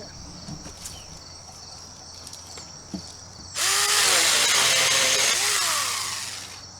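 A 20-volt battery pruning saw bites into a branch about four inches thick, its motor snapping on into a loud, sustained, close buzzing cut after a few quiet handling clicks, then easing off toward the end.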